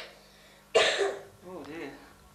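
A single sharp, loud cough bursts out close by, trailing into a raspy throat-clearing sound and a brief voiced murmur.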